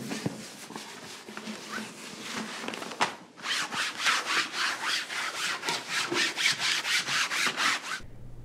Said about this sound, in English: I probably should just go ahead and let's wipe underneath the heat